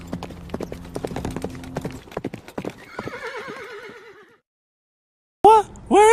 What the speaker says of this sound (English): Sheriff Rick mounts his trusty steed.